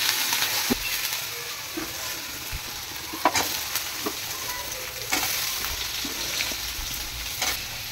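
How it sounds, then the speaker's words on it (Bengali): Garlic and onion fry in a pan with a continuous close sizzle, punctuated by several sharp clinks and scrapes of stirring spread across the clip, and no talking. "পেঁয়াজটা খুব ভাজবো না, তো রসুনটা দিয়ে দিই।"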